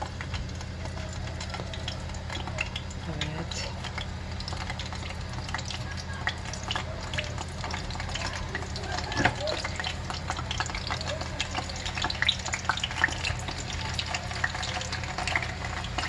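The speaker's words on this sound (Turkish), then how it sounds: "Şimdi son olarak köftelerimi kızartıyorum." Steady, low sizzling and frying hiss from meatballs frying in a pan, with occasional light clinks, continuing evenly throughout.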